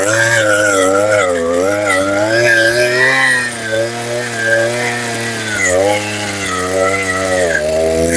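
A gas-powered auger engine drills holes for a bench in front of a house, a loud, close, steady engine drone whose pitch rises and dips as the load changes, with a person talking.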